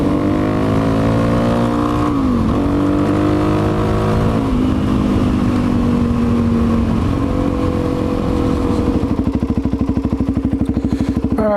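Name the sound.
motorcycle riding on the road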